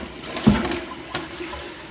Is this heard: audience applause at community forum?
no